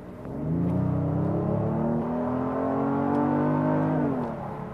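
A Genesis GV80 SUV's 3.5-liter turbocharged V6 hums and revs steadily from inside the vehicle, a smooth droning rise that holds and then eases off, with no talking.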